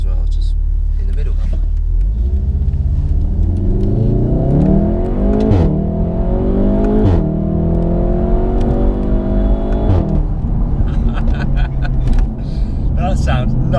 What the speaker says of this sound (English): let's see what the car sounds like from inside